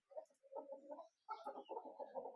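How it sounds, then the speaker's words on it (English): Three Plymouth Rock cockerels cluck in a pen, a string of soft, close, throaty clucks and short calls with a brief pause midway, fairly quiet overall. "3 Plymouth Rock cockerels,"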